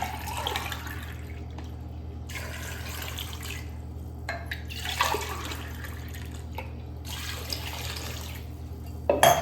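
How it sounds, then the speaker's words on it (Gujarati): Water poured from a glass over potatoes in a pressure cooker, a steady close splashing and trickling in a few bursts with pauses between pours, no talking. "ત્રણ ગ્લાસ પાણી લીધું છે આપણે. બટાકા પણ આપણા પાણીમાં ડૂબી ગયા છે."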